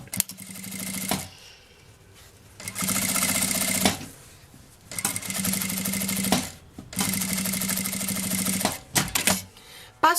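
A sewing machine runs in three long bursts of steady whirring stitches along the edge of a backpack's fabric lining, separated by short pauses with faint handling noise, close and loud.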